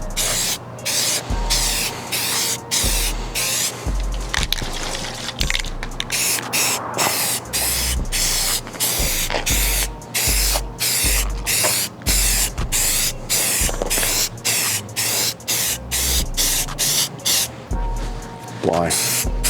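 Rattle-can spray paint hisses onto a rifle in a long series of short, evenly repeated bursts, close and loud, with a steady low hum underneath and a voice speaking between some of the sprays.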